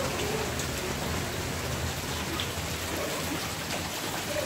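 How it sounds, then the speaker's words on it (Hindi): Heavy rainy-season rain pours steadily during a flood, a dense continuous hiss of drops drumming on surfaces with no pauses and no voices. "देखिए कितना ज़्यादा बारिश हो रहा है अभी भी"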